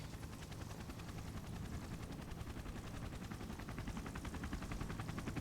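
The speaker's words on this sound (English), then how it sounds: "What's this helicopter doing here?" A helicopter overhead, its rotor beating in a fast, steady chop that stays loud and close throughout, with no voices over it.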